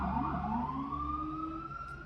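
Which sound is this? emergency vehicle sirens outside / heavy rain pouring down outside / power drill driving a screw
emergency vehicle sirens outside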